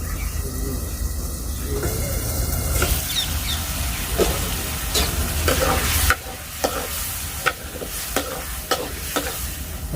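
Chopped onions fry and are stirred in a pan for kanda poha, a loud close hiss of oil with repeated scraping strokes of a spoon that grow sharper and more distinct toward the end.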